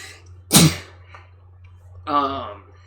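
A single sharp sneeze bursts out near the start, followed by a short voiced sound a moment later in an otherwise quiet room.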